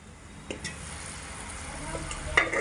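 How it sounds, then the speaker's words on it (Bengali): A spatula stirring thick star fruit pickle in a pan, a soft simmering hiss under a few light scrapes and taps, with one sharper clack near the end. "তো খুন্তি দিয়ে আমি একটু নেড়ে দেব"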